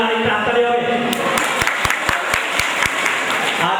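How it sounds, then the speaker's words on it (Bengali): A school audience of teachers, students and parents breaks into loud applause, a dense wash of clapping that settles into steadier, rhythmic hand claps near the end. "এবার কি তাদের জন্য আরেকটা হাততালি হবে?"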